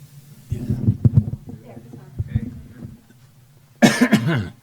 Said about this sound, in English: Can you hear me cough now?